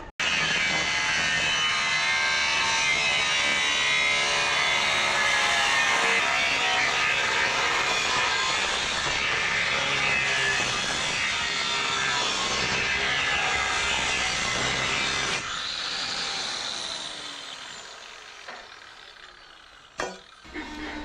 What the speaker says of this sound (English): Now we need to do the outline with the 9-inch grinder.